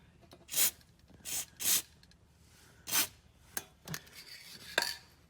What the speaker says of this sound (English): we should be able to just spray a bit of that in there, and then a bit on top.